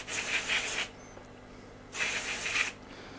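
Freeze spray hisses onto a water-damaged iPhone 5 logic board in two close, sharp bursts of about a second each, separated by a brief near-silent pause.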